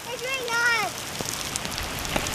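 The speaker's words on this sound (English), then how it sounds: "today it's pouring rain" Heavy rain pours down outdoors, a continuous hissing patter with scattered drops, while a voice speaks briefly near the start.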